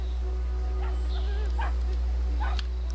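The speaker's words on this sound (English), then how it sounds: "thank goodness you're afraid of a tiny dog" A tiny dog in the video game Brothers: A Tale of Two Sons yips and barks in short, high bursts over a steady low hum, with a voice talking in the background.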